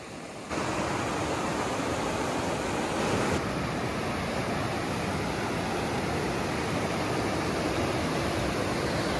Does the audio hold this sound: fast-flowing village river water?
yes